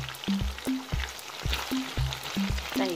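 Close, steady sizzling from egg coated in starch frying in a pan, with a run of short rhythmic tonal blips repeating over the hiss.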